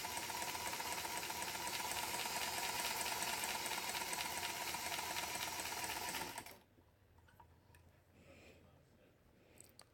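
A Dressmaker SWM-1000 sewing machine runs steadily and loudly, sewing a satin stitch for about six seconds, then stops abruptly and leaves quiet room noise.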